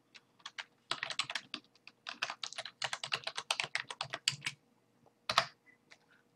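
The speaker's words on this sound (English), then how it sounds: "type in your email," Rapid keystrokes on a computer keyboard as an email address is typed, coming in quick bursts with short pauses, close and clear with no talking.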